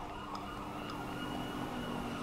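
Ambulance siren in the GTA 5 game sounding steadily over a dense layer of traffic and city noise, somewhat distant and partly masked, with no voices.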